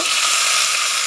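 Curry leaves sizzle in hot oil while tempering for a dry moth bean dish. The frying hiss is steady and close, with no talk.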